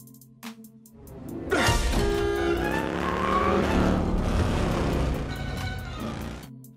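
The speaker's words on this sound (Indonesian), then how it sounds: "Para anak buah Irina pun mengejar mereka berdua menggunakan 2 mobil" Cars in a film car chase pursuing a motorbike, a rising engine roar sweeping in close with whooshing passes and a brief tire squeal, loud and sustained without talk.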